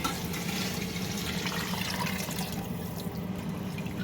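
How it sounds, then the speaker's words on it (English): Stock being poured into a pot of soup with canned tomatoes, a steady continuous liquid pour running the whole time at an even level, close and fairly loud with no talking. "Very carefully going to add that stock."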